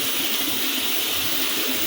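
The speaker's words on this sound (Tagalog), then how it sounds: "nalagyan ko na siya ng tubig" Water is poured steadily into a container meant for holding catfish, a loud continuous rushing splash that fills the whole moment without pause and carries no talk.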